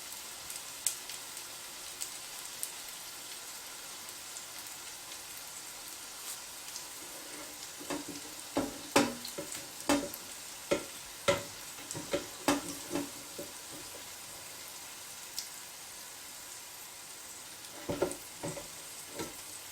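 Cheese sticks sizzling in a deep fryer, a soft steady crackle of hot oil, broken by a cluster of sharp metallic rattles as the fryer basket is shaken, then a final short burst of shaking near the end.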